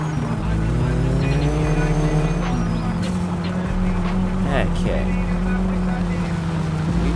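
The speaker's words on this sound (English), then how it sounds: "This car's already loud enough" Loud, steady rally car engine in the My Summer Car video game, droning with a continuous harmonic roar throughout, with brief rattles and a short spoken word over it.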